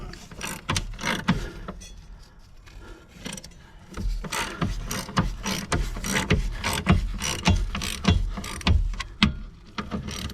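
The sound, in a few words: ratchet tightening subframe crossmember bolts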